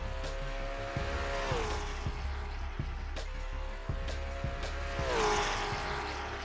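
Batmobile driving in the racing game Assetto Corsa, a steady engine drone with gear shifts and rising revs, plus a few sharp clicks and a brief tire-like squeal, no talking.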